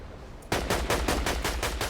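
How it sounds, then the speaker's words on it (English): Rapid gunfire from a Fortnite match bursts in suddenly after a short quiet moment, then continues as a loud, close string of about seven evenly spaced shots. "I shoot him and get returned damage back"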